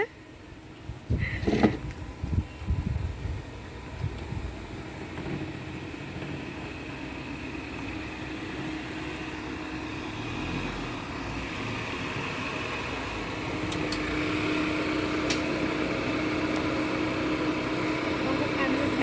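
A car arrives at a house, its engine a steady low hum that slowly grows louder and closer. Some handling noise and a few clicks come at the start.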